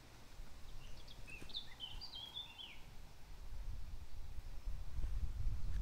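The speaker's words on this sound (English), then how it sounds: "Can you hear them tweeting in the background?" Garden birds tweet faintly in the background outdoors, a few short high chirps over a low wind rumble that grows toward the end.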